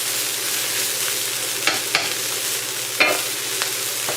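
Garlic frying in a pan and being mixed, a loud, steady close sizzle punctuated by several sharp scraping stirs of the utensil, with no one speaking.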